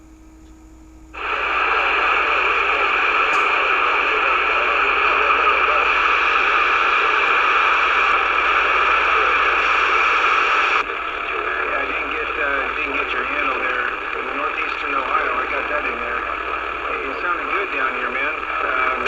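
A CB radio on the 11-meter band, fed by a tall Antron antenna, hisses with loud sustained static and skip noise from sporadic E, a steady wash that shifts texture partway through; no talk is heard.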